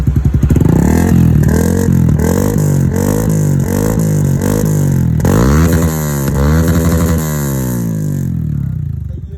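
A Yamaha Exciter motorcycle fitted with a UMA V4 exhaust revs loudly and close up, its engine note rising and falling through repeated throttle blips before settling back toward idle.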